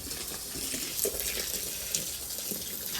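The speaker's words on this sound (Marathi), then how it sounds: "मी टाकते आहे त्यांना पाणी" Water is poured onto a dried-out potted plant, a close, moderately faint splashing trickle with small gurgles running steadily throughout, with no talk.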